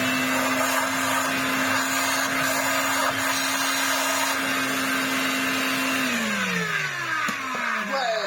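A restored Electrolux Z504 vacuum cleaner runs with a steady, loud motor whine, then winds down in pitch as the motor slows near the end.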